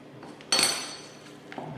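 A small spatula mixing deviled egg filling strikes the bowl once with a sharp, bright clink, followed by faint scraping and a softer tap.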